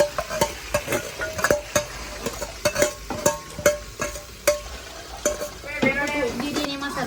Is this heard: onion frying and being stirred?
yes